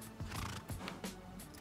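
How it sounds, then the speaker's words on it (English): A horse in the video game Shadow of the Colossus neighs in a few short, rising whinnies, fairly close and clear, with faint clopping-like sounds in between. "Is it not going to let us move the horse?"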